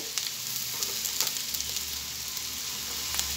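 Onions and chopped potatoes frying in a pan, a steady, dense sizzle and crackle close by with a few soft stirring knocks, continuous throughout.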